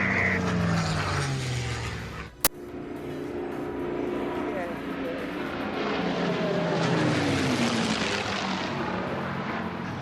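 Second World War Hurricane and Spitfire fighters roar past overhead, propeller engines droning loudly across the whole stretch with a rising then fading pitch, and a sharp click partway through.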